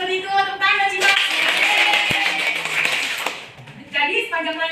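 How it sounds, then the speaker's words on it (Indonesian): Classroom of first-grade primary school children clapping hands during a maths lesson, a burst of fairly loud clapping lasting a couple of seconds, with a teacher's voice speaking before and after. "tepuk tangan sih"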